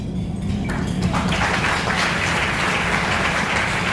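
Applause from a banquet audience at a chairmen's dinner in New York City for the USS Cooperstown commissioning, honoring Captain Frank Russo: a dense, steady wash of clapping that fills the room throughout.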